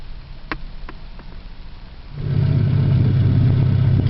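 An H tractor engine played back through a phone speaker: a few faint clicks, then the engine starts and settles into a steady, low, even running drone.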